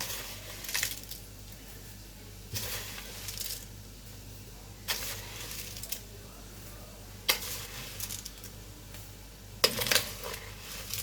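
Sugar spooned into a pot of about one and a half kilos of boiling tomatoes, several loud, close scraping scoops arriving every couple of seconds over a low bubbling background.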